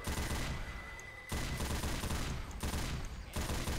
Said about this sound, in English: The LMG? The heavy machine gun?